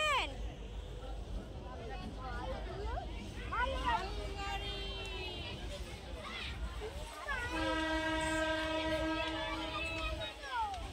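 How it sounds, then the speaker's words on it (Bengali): A train rolls past close by, its rumble joined by long, loud horn blasts in the second half, with people talking over it throughout. "পাশ দিয়ে ট্রেন যাচ্ছে"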